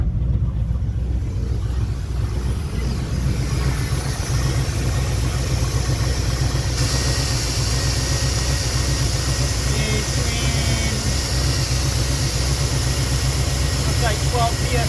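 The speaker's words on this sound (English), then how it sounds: "This is a cold start." A car engine with throttle body injection idles after a cold start, a steady close rumble that holds evenly throughout with no revving.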